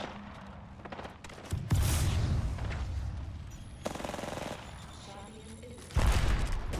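Automatic gunfire in the Apex Legends video game, loud sustained bursts of rapid shots that stop and restart in several volleys, with quieter gaps between them.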